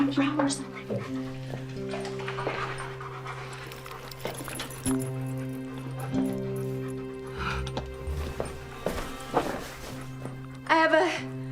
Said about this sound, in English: I have a very dangerous guard dog